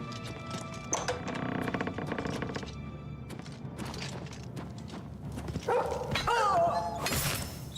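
A dog barks in Oblivion Remastered, a few short barks near the end, mixed with a steady clip-clop of hooves and ambient game sounds at a moderate, fairly quiet level.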